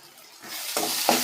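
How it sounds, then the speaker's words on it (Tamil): A spiced potato mixture is stirred and sautéed in oil in a pan, with a spatula scraping through the sizzle as the frying grows louder; no voices. "எல்லாம் சேர்த்து நல்லா வதக்கி விடலாம்"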